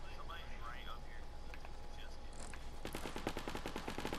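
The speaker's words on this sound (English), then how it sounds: "there are shots to our left, to our right" Gunfire in the video game Fortnite, first faint and distant under talking voices, then a fast burst of repeated shots closer and louder near the end.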